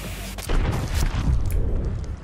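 An explosion in the zombie video game Dead Island 2, set in a metro, hits as a loud boom followed by a broad rumbling roar that lingers for a couple of seconds.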